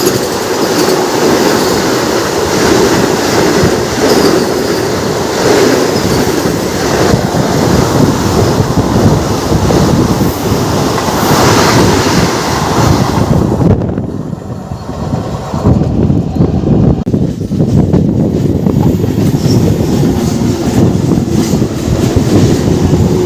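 A Santragachi–Jhargram MEMU train runs at speed with a loud, continuous rumble and rattle of carriages on the track. A brief dip in the noise comes midway before the steady roar resumes.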